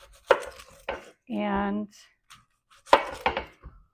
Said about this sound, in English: then we'll start cutting up the onions